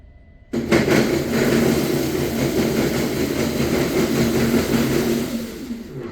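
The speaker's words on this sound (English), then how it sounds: "So I'm going to try and running the motor in forward mode using the transmitter that I have here." Electric motor driving a go-kart axle through a sprocket and chain, starting abruptly and then running at a steady, loud whir with a constant hum for several seconds.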